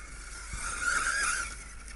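A Tekno ET48 or HotBodies E817T RC buggy brakes hard on a dirt track, a brief whining, skidding squeal of motor and tires that rises and fades over about a second against outdoor background noise.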